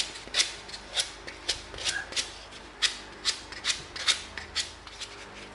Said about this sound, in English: we're going to come in with a piece of sandpaper and we're going to clean this up